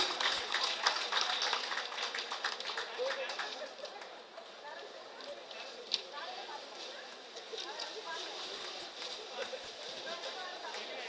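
An audience at a 2009 school alumni meet applauds. Brisk, dense clapping goes on for the full length of the clip, with crowd chatter and a speaking voice mixed in.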